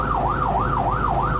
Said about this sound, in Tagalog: Ayan, may ambulansya po tayong kasunod.